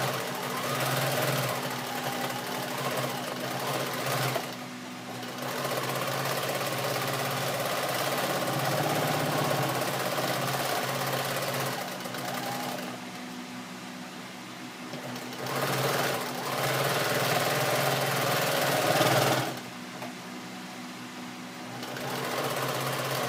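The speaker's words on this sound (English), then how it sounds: "just do a regular straight seam, back stitch at the beginning, go all the way around your apron till the other side" Sewing machine running a long straight seam around the edges of a denim apron made from old jeans, a steady close mechanical whir with short pauses between stretches of stitching.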